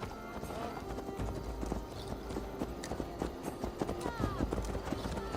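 Horses galloping in Assassin's Creed Valhalla: rapid, steady hoofbeats thud along close by, with a voice speaking over the riding throughout.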